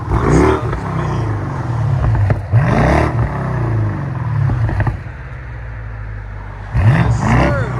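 A 2014 BMW 650i, 4.4-litre twin-turbo V8 with muffler delete, blipped several times up close: loud, sharp rev bursts with a raspy exhaust rumble in between, and a final rev near the end.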